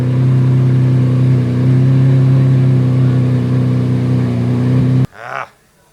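Lamborghini car engine running loud and close with a steady revving drone for about five seconds, then cutting off abruptly, followed by a short burst of a rising, rough mechanical whir.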